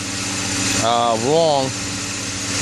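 A Mercedes SL600 V12 running rough with its throttle bodies removed, a steady mid-pitched engine hum that swells briefly in two rising and falling surges, heard close alongside a voice.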